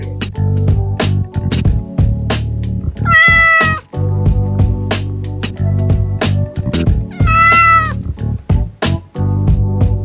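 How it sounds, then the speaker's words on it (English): A cat meows repeatedly in loud, close calls, with two longer drawn-out wavering cries, over a steady bed of children's song music with sharp percussive hits. "C for cat."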